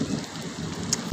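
Heavy rain pours onto a flooded rooftop, a dense, steady wash of drumming water with a brief louder splash or thud at the very end.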